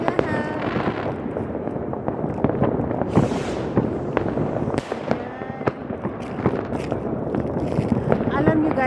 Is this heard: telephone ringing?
no